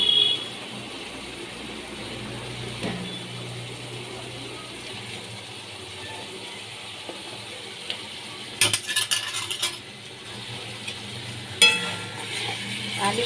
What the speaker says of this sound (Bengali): আলু দিয়ে আমি ভালো করে কষিয়ে নিচ্ছি